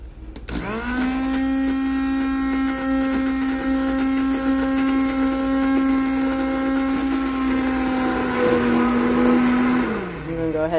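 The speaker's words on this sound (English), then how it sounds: "I put it on the counter on this towel so that I can use my immersion blender on it." An immersion blender runs on its low setting through banana butter, a loud steady motor whine that starts up, holds an even pitch for about nine seconds, then winds down.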